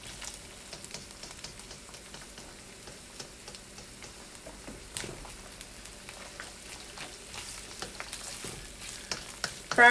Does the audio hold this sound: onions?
yes